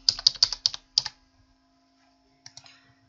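Keystrokes on a computer keyboard as a password is entered: a quick burst of about eight close, crisp clicks, a pause, then a few softer taps, with a steady low hum underneath and no talking.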